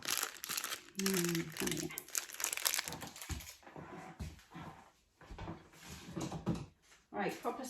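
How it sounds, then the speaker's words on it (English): Cellophane crinkles and crackles as it is cut with new fabric scissors, a dense close rustle for the first few seconds that then fades into softer handling noise, with a voice briefly speaking. "I'm cutting cellophane with new fabric scissors."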